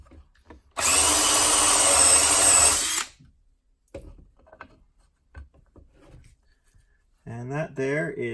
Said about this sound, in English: the best thing to do is just start off by drilling a test hole